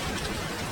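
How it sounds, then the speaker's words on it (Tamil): Rain falling in a forest, a sound effect in a Tamil cartoon fairy tale, heard as a steady dense hiss of drops, close and even, with no voices. "அந்த காட்டுல திடீர்னு மழை பெய்ய ஆரம்பிச்சது."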